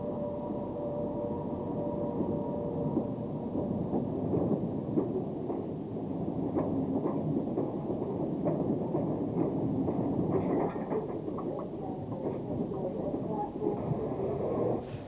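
Class 76 electric locomotive 26044 at Sheffield Victoria on the DC electrified Sheffield to Manchester line, a continuous low rumbling roar of rail running with rattling and clanking, steady and fairly loud throughout.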